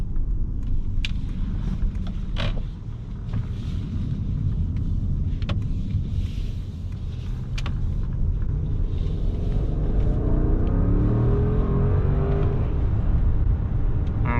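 Mercedes-Maybach S580 (2022 S-Class) with a V8, accelerating as heard from inside the cabin: a smooth, low engine rumble builds steadily with road and wind noise, muted and refined, with no talking.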